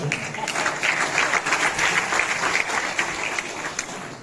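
Dense, continuous applause from an audience at a Hindi poetry recital (kavi sammelan), many hands clapping in a steady wash that holds for several seconds without a break.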